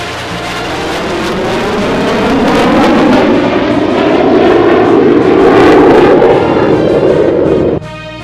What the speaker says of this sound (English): The pilots take off the aircraft into the blue sky